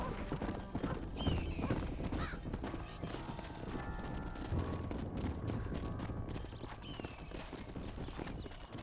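Horse hooves clip-clop at a gallop in the Red Dead Redemption video game, rapid close thuds with an occasional whinny, over a busy outdoor background.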